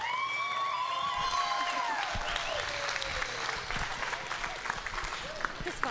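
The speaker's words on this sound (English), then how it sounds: "Go ahead and give them a round of applause." Audience at a breeding and novelty goat show clapping: a sustained, moderately loud round of applause from a crowd, with a voice speaking over it at the start.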